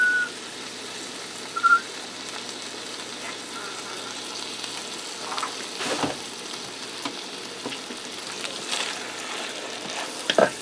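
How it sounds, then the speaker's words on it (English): Jarred tomato, basil and garlic pasta sauce with meat and Italian seasoning heating in a pan for a meat lovers pizza casserole, a soft steady sizzle with spoon scrapes and occasional clunks, close. "I'm going to stir this around and heat that sauce up."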